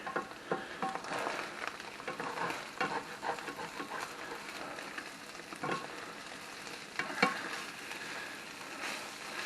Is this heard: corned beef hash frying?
yes